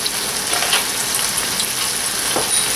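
Seafood sizzling loudly in a pan as it is stirred, a dense, close, continuous hiss with faint scraping of the stirring.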